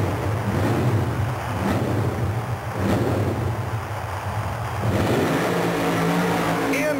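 A supercharged 1927 Ford Model T roadster drag car with a 2,000-horsepower Chevrolet engine roars loudly and continuously at the starting line, a heavy low engine drone that surges near the end amid a noisy crowd ambience.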